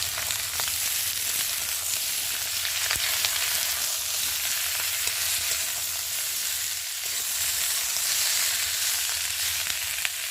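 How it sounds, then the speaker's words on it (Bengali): Potatoes, green tomatoes and green chilies frying with onions, a continuous close sizzle and crackle holding steady throughout, with faint occasional clicks of stirring and no voices. "আর এখানটা রয়েছে আলু আর কাঁচা টমেটো আর কাঁচা লঙ্কাও রয়েছে একসাথে, ভালো করে ভেজে নেব"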